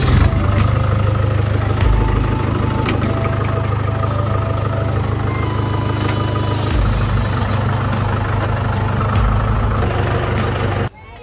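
Tractor pulling a loaded trolley on the drive home at night, its engine running in a loud, steady diesel chug with rattling and road rumble that cuts off abruptly near the end.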